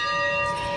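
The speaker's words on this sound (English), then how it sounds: "That bell is the bell from the" The bell of steam locomotive engine 165, in an engine shop at a museum, rings as one sustained metallic tone with clear overtones, close and loud.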